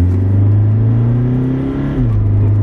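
A 2013 Toyota Fortuner VNT diesel engine revs up close with a steady, loud drone that rises in pitch, then drops back toward idle near the end.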